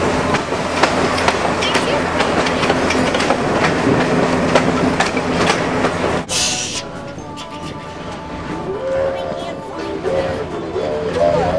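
A train rolls along the tracks through a California redwood forest with a steady rumble and rhythmic rattling, loud and close, with a brief hiss partway through.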